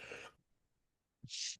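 A brief, sharp sneeze bursts out after a stretch of quiet and fades quickly, with faint voice fragments just before it.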